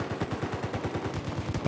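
Rapid automatic gunfire from the video game Battlefield 4 on PS4, a steady burst of evenly spaced shots rattling for nearly two seconds at moderate loudness.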